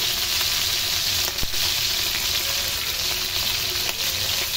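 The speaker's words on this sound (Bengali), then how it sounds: "ফ্রাই প্যান নিয়েছে, এর উপরে দিয়ে দেবে তেল, জিরা, কয়েকটা কাঁচামরিচ, আগে থেকে কেটে ধুয়ে রাখা বেগুন" Cut eggplant fries in oil with cumin seeds and green chilies in a frying pan, producing a loud, continuous close sizzle with faint stirring clicks.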